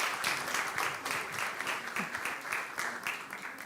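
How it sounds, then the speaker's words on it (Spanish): Audience applause at a school education conference, steady dense clapping from a hall that holds evenly for several seconds with no voices over it. "Un aplauso,"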